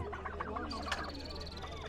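Hens cluck and a rooster calls amid a busy poultry market in Edirnekapı, Istanbul, with people chatting in the background throughout.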